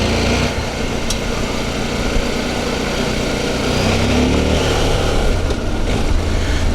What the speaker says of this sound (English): we'll take the mighty CFMOTO for a ride out in the woods here in the Ozarks and see how it does